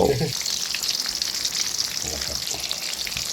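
Sour fermented Mekong giant catfish fries in hot oil with a loud, steady sizzle and crackle that runs throughout, opening with a brief low thump.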